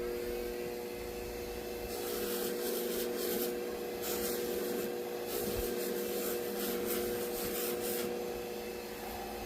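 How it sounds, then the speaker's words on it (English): A polishing machine buffs a colonial-era shoe buckle recovered by metal detecting, giving a steady, close whirring drone with rubbing friction throughout and no pauses. "And then on to the polishing machine at this point."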